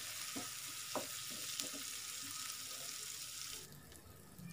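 Spice paste with bird's-eye chili sautéing in a pan for fried tofu, a soft continuous sizzle with a few light stirring clicks early on, fairly quiet, with no voices.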